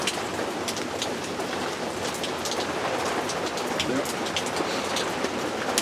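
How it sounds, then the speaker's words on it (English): Steady rain patters densely on surfaces during a December thunderstorm, an even, close hiss with scattered sharper drop impacts and no clear thunder crack. "Yeah, thunderstorm today."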